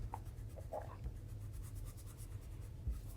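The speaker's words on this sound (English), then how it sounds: "let's go ahead and erase the fish lines that we made because we're not going to need them." A pencil eraser rubs out construction lines on paper, giving soft, quiet scrubbing strokes in a short irregular rhythm.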